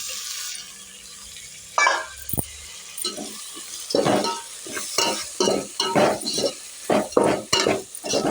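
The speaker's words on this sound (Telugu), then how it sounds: "ఇప్పుడు టమాటాలు వేద్దాము" Tomatoes added to frying dry fish and cucumber curry in a pan, with repeated stirring scrapes and bursts of sizzling after a quieter start, fairly close and without talk.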